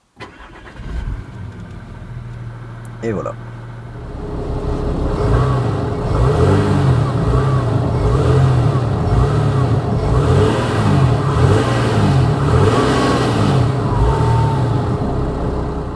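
A 2010 Audi Q5 3.0 V6 engine cranks and catches, then settles into a loud, steady rumble with some revving, close by; a voice speaks briefly near the start.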